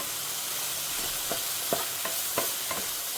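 Mushrooms for a pepper roast stirred and fried in a pan, a steady hiss of sizzling broken by about six distinct spatula scrapes, close and with no talk.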